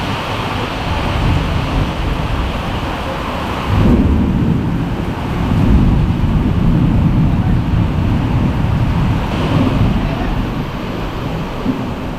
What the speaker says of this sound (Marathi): पाऊस असाच असतो इकडे हॅवी बघा